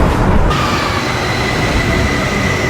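A Bangkok metro train pulling into the station, a loud steady rumble and roar with a thin high whine of wheels and motors, no talking.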